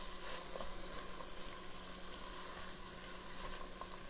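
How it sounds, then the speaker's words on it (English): Beans with onions and garlic being stirred in a pan, a soft continuous sizzle with scraping stir sounds running throughout, fairly quiet and with no speech. "So I'm just stirring everything around. I want to make sure the onions and the garlic get into the beans."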